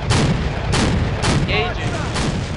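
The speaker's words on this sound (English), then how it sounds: "BTR leveling the houses" A BTR armoured vehicle's cannon fires on houses in a 2005 Chechnya combat game, sounding as five heavy shots at a steady rhythm, close and loud, each with a booming tail, and faint chatter between them.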